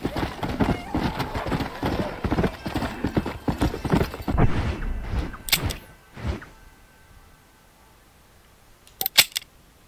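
Horse hooves clip-clop steadily and close in Red Dead Redemption Undead Nightmare, with a whinny among them. The hoofbeats stop midway, leaving near-quiet, then a couple of sharp hoof or tack sounds return at the end.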